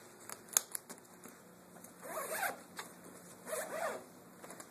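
Zipper on a compartment of a Jack Georges Generations Edge laptop wheeler bag, a few quick close zips with small clicks, then two longer rasping pulls.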